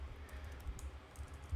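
Quiet computer keyboard typing, a short run of soft, rapid key clicks close by with a slightly heavier tap at the end.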